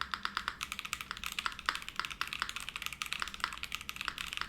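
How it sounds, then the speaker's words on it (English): Rapid, steady clacking of a full-size mechanical keyboard being typed on, close and crisp, with no voices. "The spacebar, I think, is probably the best I've heard on this size keyboard"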